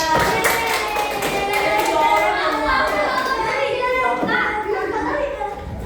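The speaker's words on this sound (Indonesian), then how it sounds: "beri tepuk tangan untuk semuanya" Children in a classroom clap together in a dense, steady patter that lasts throughout, mixed with overlapping kids' voices and chatter.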